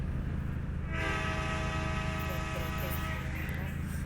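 In a video game, a train horn blares as a sustained, loud multi-tone blast over the steady rumble of the moving train, while a voice talks over it.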